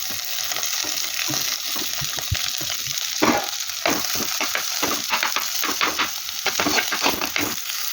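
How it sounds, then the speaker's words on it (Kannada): Onions and curry leaves fry loudly in fully melted butter for pepper chicken gravy, a bright continuous sizzle threaded with repeated spatula scrapes and stirring clicks, no voices. "ಬೆಣ್ಣೆ ಪೂರ್ತಿಯಾಗಿ ಕರಗಿತು ನೋಡಿ. ಇನ್ನು ಕರಿಬೇವು, ಈರುಳ್ಳಿ ಎಲ್ಲ ಹಾಕ್ಕೊಳ್ಳಿ."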